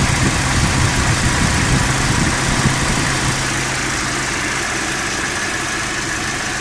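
A 2018 Toyota Corolla XLI engine idles with its air-conditioning fan turning at low speed, a steady close mechanical hum and whir that holds evenly throughout, with no voices.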